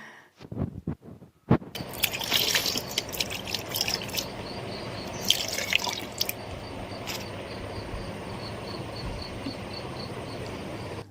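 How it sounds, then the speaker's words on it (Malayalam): A broom being rinsed under running water, a steady splashing flow with intermittent brushing and sloshing bursts, preceded by a few brief faint taps before the water starts. "ഈ ഒരു ബ്രഷ് അതായത് ഈ ഒരു ചൂല് കഴുകി വെക്കലാണ്"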